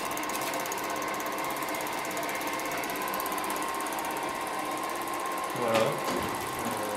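An old 16 mm silent film projector runs with a steady, fast mechanical clatter of gears and claw throughout, moderately loud and even, with a brief louder bump near the end.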